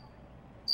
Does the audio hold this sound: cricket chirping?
yes